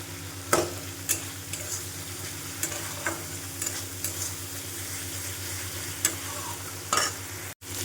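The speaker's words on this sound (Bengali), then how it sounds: "এবার এর মধ্যে আদা, রসুন আর লঙ্কা গুঁড়ো দিয়ে দেব, দিয়ে সুন্দর করে কষাবো।" Onion, ginger, garlic and chili powder fry in a pan with a steady low sizzle, broken by repeated soft scraping and clinking as the spices are stirred. It stays quiet and even throughout, with no voices.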